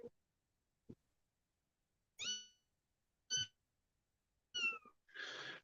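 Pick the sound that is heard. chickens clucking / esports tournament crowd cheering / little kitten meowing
little kitten meowing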